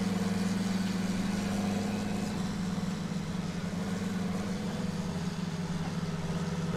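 A John Deere 8530 tractor in Farming Simulator 19, hitched to a big Porsche cultivator, idles with a steady low engine hum and a faint constant whine, unbroken and without speech.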